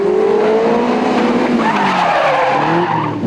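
Sports car manoeuvring hard in an auto test event, tyres squealing and skidding loudly over a revving engine, with a long rising and falling screech through the whole stretch.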